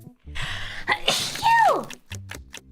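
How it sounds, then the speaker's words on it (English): One loud, close sneeze bursts out against a busy background, followed by a few faint clicks and knocks. "I won't deny you guys of a sneeze."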